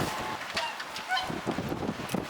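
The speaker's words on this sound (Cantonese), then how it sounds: "聽唔聽到啲鵝喺度叫啊？" Geese honk repeatedly in short, harsh calls over a busy outdoor background in Iceland, fairly close and loud.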